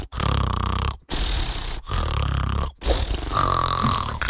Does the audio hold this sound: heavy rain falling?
no